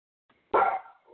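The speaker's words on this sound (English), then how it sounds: "Pardon my dog." A single sharp indoor dog bark, close and fairly loud, followed by a faint short whine, with no speech over it.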